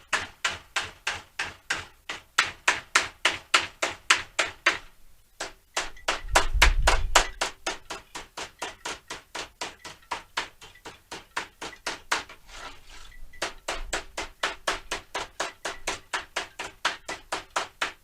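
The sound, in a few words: hammering a sheet metal lip flush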